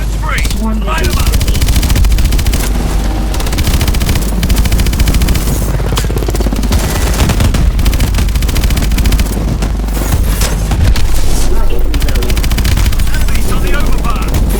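Heavy automatic gunfire in Call of Duty: Advanced Warfare, loud rapid bursts and explosive booms stacked over a constant low rumble, with voices speaking amid the battle.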